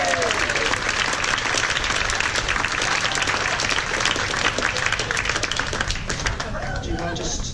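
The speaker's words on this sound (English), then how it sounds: "can I have a big round of applause for David and his Fred Olsen keyring?" A large audience claps in sustained, dense applause for a man receiving a Fred Olsen keyring at a live event, the steady ovation holding throughout with a background murmur of voices.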